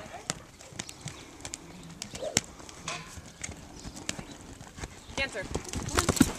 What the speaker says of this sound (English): Okay, make her canter.